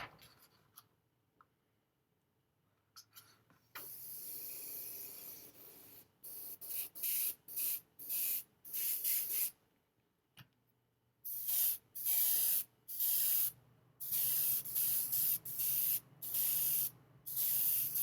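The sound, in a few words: airbrush spraying paint with air compressor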